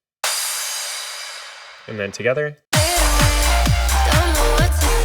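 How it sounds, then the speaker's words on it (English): Layered EDM impact of a clap with a bright cymbal tone on top: a hissing cymbal-like swell fades, a voice speaks briefly, then a loud run of punchy, low-bodied hits with shimmering highs follows in a steady rhythm. "So it's like a clap impact just to get a lower tone with that like higher cymbal tone."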